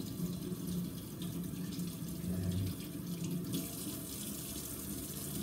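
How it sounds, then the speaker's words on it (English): Tap water running steadily over a scaled fish being rinsed in a kitchen sink, a continuous close splashing stream that shifts slightly in tone midway, with no talking. "Let's rinse this off again."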